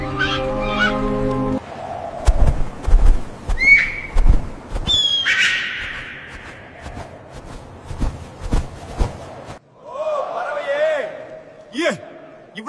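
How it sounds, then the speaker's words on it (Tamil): Cartoon hoopoe bird squawking with sharp honk-like calls scattered across the scene, mixed with other animated sound effects and thumps. "ஹுத் ஹுத் பறவை திரும்ப வந்துருச்சு."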